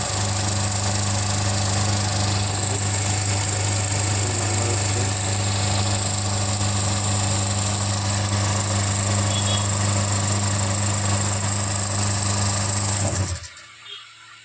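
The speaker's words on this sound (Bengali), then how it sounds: "এই আমার হচ্ছে মেশিন, এই মেশিনে কিভাবে রানিং কয়েল কমপ্লিট হবে। ওকে, দেখুন কীভাবে রানিং কয়েল করছি।" A coil winding machine winds a motor's running coil with a loud, steady electric whine and low hum that holds evenly for about thirteen seconds before abruptly stopping into quiet.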